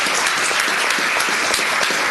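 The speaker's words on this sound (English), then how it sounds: "let's give both of them a great round of applause" Applause fills a county commissioners court meeting room, a steady burst of many hands clapping at even loudness throughout.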